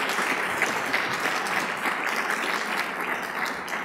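An audience at the 2011 Ernest Orlando Lawrence Award ceremony applauds to welcome Secretary Chu: a steady, dense wash of many hands clapping at an even volume for several seconds, with no voices on top.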